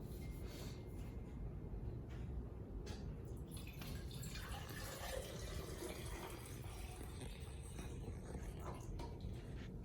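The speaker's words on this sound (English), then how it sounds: "pouring the water into the beaker." Water poured into a beaker during a student salt-solution experiment, a faint continuous splashing trickle lasting several seconds against a quiet background.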